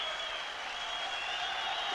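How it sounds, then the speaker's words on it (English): Football crowd at an Alania Vladikavkaz versus Glasgow Rangers Champions League qualifier applauds a substituted player, a steady, distant wash of stadium clapping and crowd noise with no clear individual claps. "sporting applause there too from the local fans"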